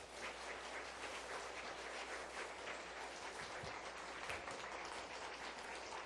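Sustained applause from a church congregation welcoming a speaker, a dense steady clatter of many hands clapping throughout with no voices standing out.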